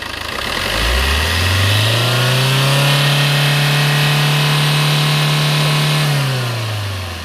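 Diesel engine of a Maruti Suzuki Ertiga pushed up from idle into a sustained loud rev, held evenly for about four seconds, then easing back down, heard up close without voices.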